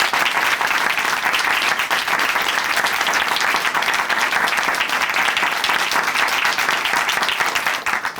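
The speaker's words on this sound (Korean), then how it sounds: "다시 한번 큰 박수 보내드릴게요." A Korean Christian TV studio audience gives sustained, dense applause, many hands clapping together loudly and evenly for several seconds before tapering slightly at the end.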